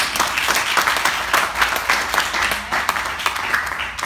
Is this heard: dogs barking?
no